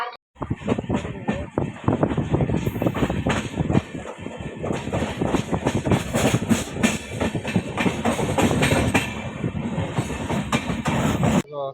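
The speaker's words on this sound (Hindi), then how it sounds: "अभी तक तो ऑन टाइम चल रही है हमारी महाराष्ट्र एक्सप्रेस" Maharashtra Express passenger train running on rails between Nagpur and Pune, heard from aboard as a loud continuous rumble with rhythmic clickety-clack of wheels over rail joints throughout.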